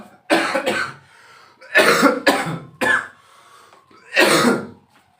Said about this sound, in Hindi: थोड़ी खांसी हो गई।